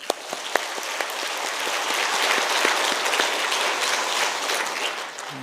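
A church congregation at a Wednesday evening worship service claps in thanks, a full, even round of applause from many hands filling the room for about five seconds.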